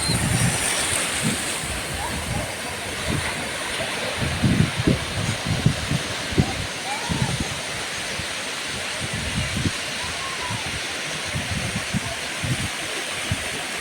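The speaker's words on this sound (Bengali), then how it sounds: "সমুদ্রের এই ছোটো ছোটো ঢেউগুলো যেগুলো সমুদ্র থেকে ধেয়ে আসে" Small waves wash and break repeatedly on a shore, a steady surging hiss with low rumbling pulses, moderately loud with wind noise, at Mandarmani beach.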